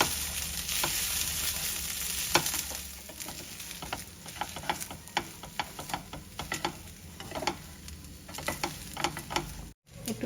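Cooked rice is stirred and fried in a pan, producing a soft steady sizzle broken by frequent scraping taps of a spatula at an irregular pace, close and moderately quiet.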